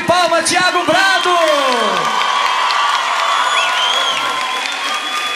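Crowd at a live music show applauds and cheers for a singer, loud clapping with whoops and shouts early on, settling into sustained applause.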